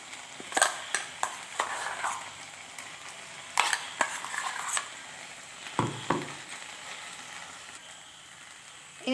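Ground coconut paste is spooned into a pot of potato and drumstick curry, with a series of sharp spoon clanks and scraping stirs against the pot, separated by short quiet gaps.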